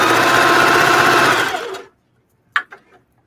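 A sewing machine sews ruffle socks in one loud, steady whirring run of nearly two seconds, then stops abruptly, leaving a couple of sharp clicks.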